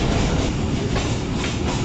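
Lasani Express passenger train running on rails as it nears Pasrur station in the evening, a loud, dense rumble and rattle of wheels and coaches heard from on board, steady and unbroken.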